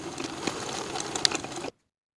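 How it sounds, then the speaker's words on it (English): A sewing machine zigzag-stitches elastic on a knit jacket sleeve, a brief close mechanical whir with fine rapid ticking that stops abruptly after under two seconds. "Overlap the raw edges of the elastic and zigzag to secure."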